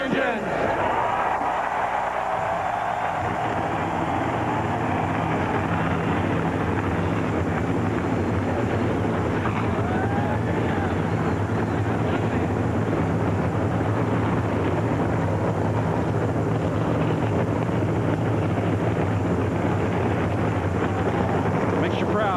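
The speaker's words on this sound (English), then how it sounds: "Drivers, start your engines." NASCAR Winston Cup stock car engines fire up together at Bristol Motor Speedway for the Food City 500, a massive sustained roar mixed with a packed crowd, loud and continuous throughout, with a voice over the start.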